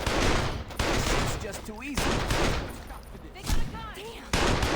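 Shotgun blasts in Saints Row 2 boom in a few heavy bursts with short pauses between them, while a voice talks over the gunfire.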